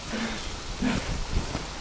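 Heavy rain pours down outdoors in Norway, a steady dense hiss of drops drumming around a rooftop tent, with a few louder patters and soft thumps breaking through.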